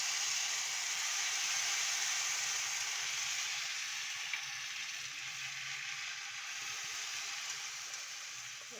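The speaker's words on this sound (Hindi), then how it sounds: "सबसे पहले हम अपने तवे को ग्रीस करेंगे, हल्का सा इस पर ऑयल लगाएंगे।" Oil sizzles on a lightly greased tawa ready for maize roti, a steady hiss that holds evenly for several seconds and fades slightly toward the end.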